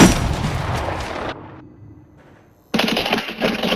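Loud bursts of gunfire from Call of Duty, a dense volley that breaks off into a quieter lull and then resumes abruptly with sharp, close shots.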